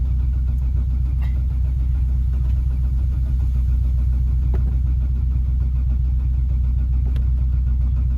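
A car engine cranking over on its starter as it tries to catch, a steady, loud, low mechanical churn that continues without pause.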